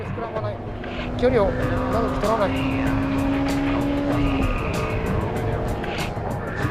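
A Honda Type R car corners on a race track, its engine note climbing and holding a steady drone from inside the cabin while someone talks over it.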